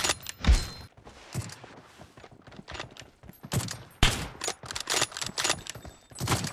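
Gunfire in the mobile battle game PUBG Mobile during a team deathmatch: repeated sharp shots and short automatic bursts, some loud and close, others fainter, spread irregularly across the scene.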